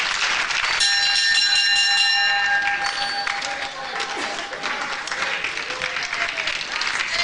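A ringing bell at a professional wrestling match between Clive Myers and Steve Grey sounds out clearly over crowd applause and cheering, then the crowd noise carries on after the tone fades.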